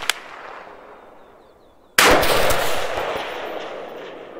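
A single rifle shot at a shooting range, fired by a shooter using a 2X ACSS CQB-M5 prism scope on targets from 100 to 500 yards: a sharp, loud crack followed by a trailing echo, with faint ambience before it.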